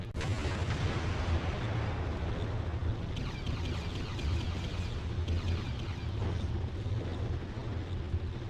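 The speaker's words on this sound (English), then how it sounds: "I did just realize that I can blow up the bombs." Bombs blowing up in the action-adventure video game Beyond Good & Evil, a sustained low rumbling blast with heavy booming texture that carries on fairly loud for the full stretch.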